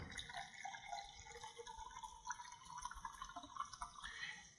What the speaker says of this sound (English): So you take any Italian sparkling water